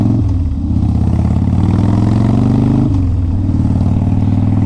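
A 2002 Harley-Davidson Low Rider V-twin idles close by, a steady, loud low-pitched lope with a brief throttle blip midway, no voices over it.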